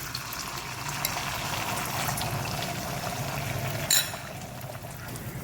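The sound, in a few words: rice flour batter poured into an iron kadai with ghee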